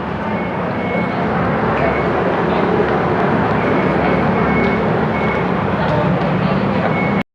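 Steady, loud rumble of an electric skytrain in motion, a continuous broadband roar with a faint high whine, heard from on board and ending abruptly.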